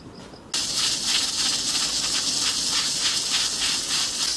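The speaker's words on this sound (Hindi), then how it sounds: "अब हम प्रेशर कुकर को रखेंगे चूल्हे के ऊपर और सीटी चलने के 30 मिनट बाद हम इसको खोलेंगे" A pressure cooker on a stove, cooking mutton for karahi, lets out a loud, continuous steam hiss that starts abruptly and holds steady, close by, with no talking.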